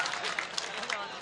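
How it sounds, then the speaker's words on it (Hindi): Audience applause at an Urdu mushaira poetry recital, a brief burst of many hands clapping close to the microphone, steady and dense throughout with no speech over it. "ताली बजाइए।"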